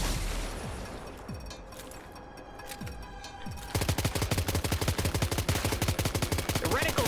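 Assault rifle gunfire in the game Death Stranding 2: scattered heavy shots over a rumbling backdrop at first, then a sustained rapid automatic burst of loud, evenly spaced cracks to the end.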